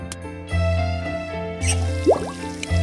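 Water running from a tap as children wash their hands and faces, with steady drips and splashes over a low continuous hum, broken by brief pauses and small knocks.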